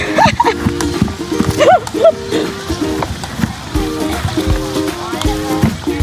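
Hooves clip-clop at a zoo cafe with animal feeding, sounding in short rhythmic runs close by, mixed with a child's and adults' excited voices.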